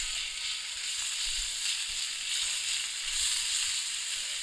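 Crushed garlic, a tablespoon of it, sizzles steadily in a spoonful of hot oil, a continuous close hiss of frying for a beef-stuffed potato kebab, with no voices.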